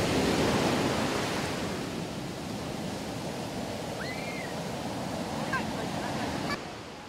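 Surf breaks on Kuta beach in Bali as a steady, broad roar of waves, with a faint high chirp partway through and the wash easing slightly near the end.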